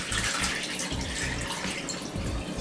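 Water running steadily from a tap while rice is rinsed to wash out starch, a continuous close splashing rush with faint low gurgles.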